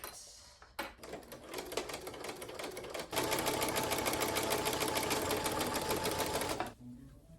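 A sewing machine stitches a thrifted collar, starting with a short burst, then a brief pause, then a steady rapid mechanical whirr and clatter that runs several seconds before stopping.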